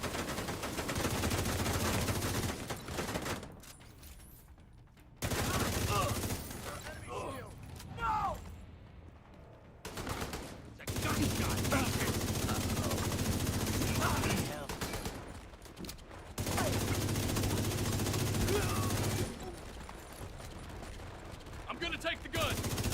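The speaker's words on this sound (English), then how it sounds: "gunner on a minigun." Minigun in a multiplayer shooter game fires in long sustained bursts, loud and continuous, broken by short pauses, with players talking over it in between.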